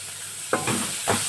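Tomatoes frying in a pan for a fish-free curry, a steady sizzle under a hiss with a few soft stirring scrapes, close and moderately quiet, no talk.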